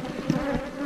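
Honeybees buzzing steadily around small nuc hives in an apiary, with virgin queens returning from mating flights; a close, continuous insect drone with no talk.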